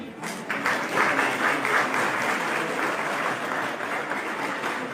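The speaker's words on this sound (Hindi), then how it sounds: "तालियां बजाइए, आपके बच्चे हैं।" Audience applause at a Kendriya Vidyalaya school annual function in Reckong Peo, Kinnaur, steady and full for about five seconds, honoring students selected for colleges and careers.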